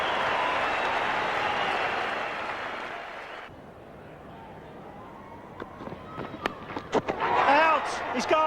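A cricket crowd at an Australia versus West Indies test match roars loudly and then fades, followed by scattered claps and shouts that build into renewed cheering.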